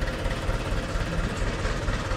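A tractor engine runs steadily as it moves forward, a continuous low, rumbling drone at close range with no talk over it.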